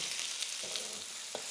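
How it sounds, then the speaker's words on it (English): Chicken stir-fries in oil in a wok, a dense steady sizzle with a couple of faint stirring scrapes, close and continuous throughout. "It'll brown nicely in the oil."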